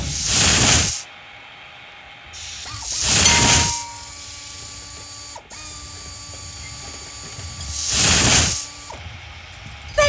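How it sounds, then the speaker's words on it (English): Welding torch on a truck bumper being attached to the body in the game Tonka Garage, three loud hissing bursts separated by quieter stretches of faint mechanical whirring and clicks. "Now weld the new bumper onto the body"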